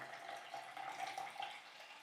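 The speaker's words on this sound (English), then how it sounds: "we can try pour the tea into the milk" Tea is poured into milk for homemade bubble tea, a quiet, steady trickling stream with light bubbling gurgles, close and soft, running continuously for a couple of seconds.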